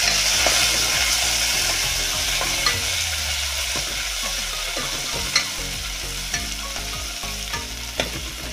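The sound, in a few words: tempering with curry leaves and coriander frying, stirred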